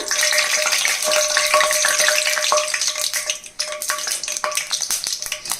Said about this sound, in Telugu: ఆయిల్ వేడైన తర్వాత ఒక బిర్యానీ ఆకు ఒక అనస్ పువ్వు ఇదిగండి ఒక మరటి మొగ్గ ఇదిగండి ఒక ఇంచు దాల్చిన చెక్క వేసి లైట్గా వేగించారండి